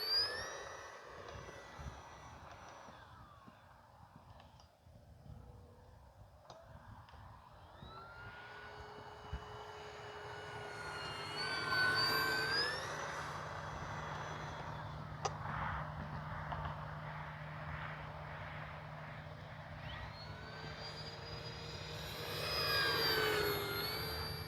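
An RC Arrows F4U Corsair model plane flies on a rainy day, its electric motor whining faintly in the distance, fading as power is cut, then rising again in pitch and loudness as it passes.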